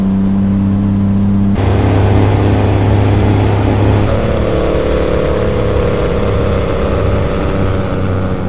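Custom Kenworth W900 heavy-haul truck engine in American Truck Simulator, idling steadily then revving up loud and close, a sustained low drone that rises and holds at a higher pitch with no talk.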